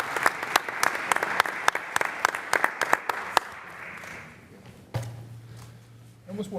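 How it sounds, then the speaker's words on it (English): Council members and attendees at a city council meeting give a round of scattered applause, with distinct individual claps for about three seconds that taper off, followed by quiet room noise and a speaking voice. "Let's give Mike a round of applause."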